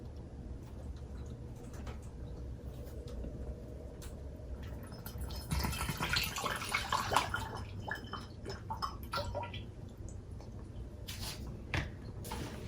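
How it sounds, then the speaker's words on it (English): Vinegar is poured into a glass bottle for a baking soda balloon experiment, a soft splashing gurgle swelling midway among small clinks and handling noises, close and fairly quiet. "We're gonna pour some vinegar into the glass bottle with the front."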